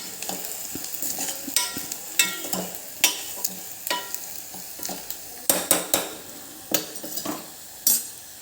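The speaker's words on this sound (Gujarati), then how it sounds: "એક ટીસ્પૂન લાલ મરચું પાવડર એક ટીસ્પૂન ધાણા જીરું પાવડર એને એક વખત આપણે હલાવી લઈશું" Red chili powder and coriander-cumin powder being stirred into a hot pan while making sprouted moth bean curry, with a steady sizzle and repeated sharp scrapes and clinks of a spoon against the pan, close and with no talking.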